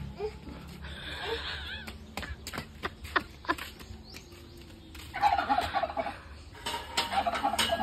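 A turkey gobbles in bursts of rattling calls, close and fairly loud, with people talking and other noises nearby between the calls.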